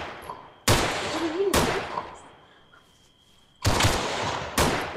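Four sharp, loud gunshots in the video game Breaking Point, fired singly at irregular intervals, each followed by a decaying echo over a quiet background.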